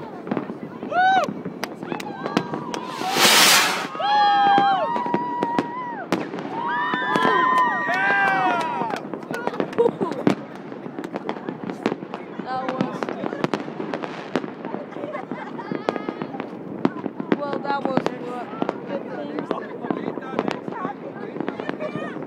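Fireworks burst and crackle through a big New Year's celebration, one loud whistling rocket near the start followed by dense, continuous popping near and far, with a crowd cheering and people talking throughout.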